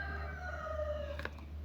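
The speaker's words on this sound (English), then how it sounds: "the rooster is really enjoying himself today" A rooster crowing nearby, one long drawn-out call that slowly falls in pitch over a steady low hum, followed by a couple of short clucking notes.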